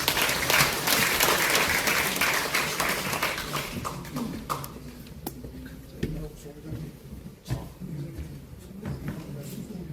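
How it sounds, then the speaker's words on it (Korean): A crowd at a former four-term lawmaker's book launch applauds loudly and densely for about four seconds. The clapping then thins into scattered claps and room noise. "큰 박수 부탁드립니다."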